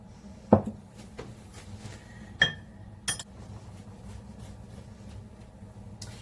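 Flour and milk are stirred into a cake batter for a cinnamon sugar loaf. A utensil gives a few sharp, scattered clinks against the bowl over a quiet background of soft mixing.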